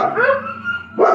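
Dogs bark indoors during a sewing session, two quick close barks with whiny, yipping tones.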